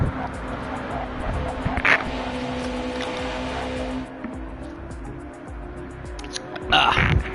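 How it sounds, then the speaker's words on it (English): Race car engines drone steadily in a racing video game on the High Speed Ring track, a constant revving hum with a couple of louder surges, with a voice talking over it throughout. "I'm having to speak louder due to the engines of the car, the constant revving and all that"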